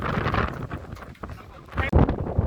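Strong wind buffets the microphone along the bayside Baywalk in Calamba, a loud, continuous rumbling gusty roar that surges near the end, with a voice speaking faintly within it.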